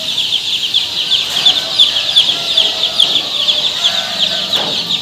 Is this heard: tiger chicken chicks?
yes